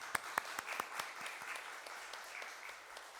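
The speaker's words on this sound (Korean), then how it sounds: "우리 감사한 마음으로 깨끗이 나아라라고 이렇게 축복의 박수 한번 보내도록 하겠습니다" A church congregation at Sunday worship gives a round of blessing applause, a few sharp early claps merging into soft, distant clapping that thins out over a few seconds.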